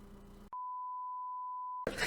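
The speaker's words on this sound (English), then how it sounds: "Beep that out too." A single steady censor beep, one pure continuous tone about 1.3 seconds long, cuts cleanly over a spoken word on a podcast, with talk just before and after it.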